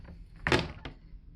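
A cabin refrigerator door in a cruise ship veranda suite shuts with a single soft thunk followed by a small latch click, close by and brief, with no talk.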